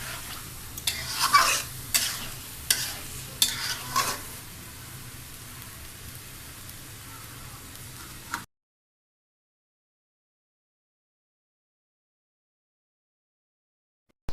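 Meat being stirred and sautéed in a pan for a Bengali bottle gourd dish, with a few scraping stirs and a soft sizzle close by, then the sound cuts to silence after about eight seconds.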